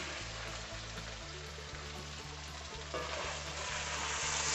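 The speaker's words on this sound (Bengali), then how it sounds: "মশলাটা আমাদের সুন্দর করে কষানো হয়ে গেছে।" Spice paste sautéing in a pan for a Bengali bata masala chicken curry, a steady close sizzle and frying hiss with faint stirring, growing slightly louder toward the end.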